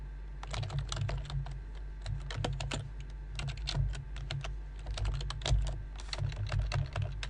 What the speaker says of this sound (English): Try to type it in right.